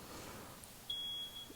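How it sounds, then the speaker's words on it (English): A smoke detector in a camping cabin gives a single thin high beep lasting about a third of a second, faint against a quiet room hiss. "They have smoke detectors too."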